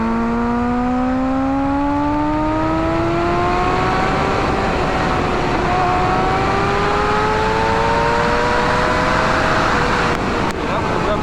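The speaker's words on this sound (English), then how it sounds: "Okay, that was the rev limiter there in second." A 2007 Kawasaki ZX6R motorcycle engine revs hard and climbs steadily in pitch to the rev limiter in second gear, loud and close from on board with wind rush throughout.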